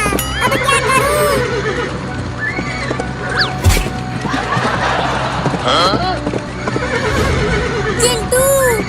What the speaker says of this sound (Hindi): ये मेरा घोड़ा तो रुक ही नहीं रहा